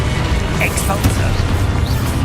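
A spell blast in the Hogwarts Legacy video game lands as a dense low rumbling boom with crackling debris, a voice shouting the incantation over the blast.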